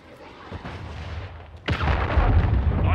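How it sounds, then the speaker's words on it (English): A cruise missile strike in Modern Warfare 3 lands as a low rumbling roar that builds, then a sharp, loud blast at about the halfway point, followed by a sustained heavy, booming rumble. "Friendly cruise missile deployed."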